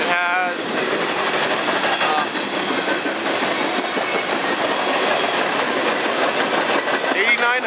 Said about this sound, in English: Another train that is passing by is CP402.